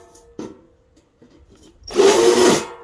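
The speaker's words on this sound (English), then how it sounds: "So I've got this countersunk tool to just go around and remove lots of loose splinters" A hand countersink tool scrapes loose wood splinters from a cheap homemade fire pit grill, with a few faint light knocks and then a short, loud, gritty rasp close by.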